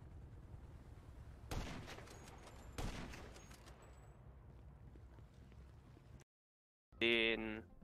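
A couple of sharp, booming gunshots spaced apart in a video game over a low background hum, followed by a moment of silence and then a short burst of bright, tonal game sound effects.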